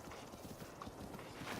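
Epona, the horse in The Legend of Zelda: Breath of the Wild, galloping in-game with a steady rapid clip-clop of hooves, moderately loud over continuous game ambience.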